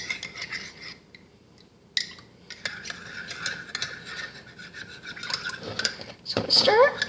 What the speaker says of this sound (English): So put a little bit more in, stir it in.